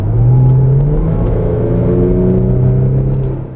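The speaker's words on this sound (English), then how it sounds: "the petrol engine's more linear power delivery is accompanied by a rortier engine and exhaust sound" A 2017 Range Rover Velar's 3-litre supercharged V6 petrol engine revs and pulls hard, a loud, deep rumbling drone with rising tones, sustained throughout and easing off at the end.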